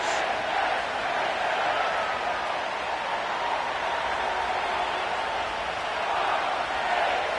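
Stadium crowd noise at M&T Bank Stadium in Baltimore within a Madden football video game, a steady, broad roar of a large distant crowd holding constant throughout.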